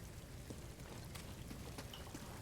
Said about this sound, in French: ça pleut... Enfin, il pleut que ici. Il pleut pas au-dessus.